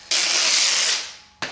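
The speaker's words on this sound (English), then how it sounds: "I'll spray just a little bit of water on here." Spray bottle squirts a little water onto a sharpening surface while a plane blade is honed: one sharp hiss lasting about a second and fading, then a second short spray begins, close and alone.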